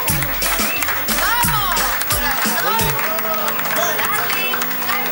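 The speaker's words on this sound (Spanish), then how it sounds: "un aplauso fuerte" An audience applauds loudly with dense, continuous clapping and some cheering, while a voice speaks briefly over the noise.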